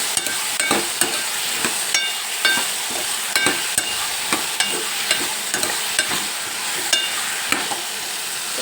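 A spoon scrapes and stirs potatoes through brinjal curry in a pan, with repeated rhythmic scraping strokes over a steady background sizzle, close and fairly loud, no voices.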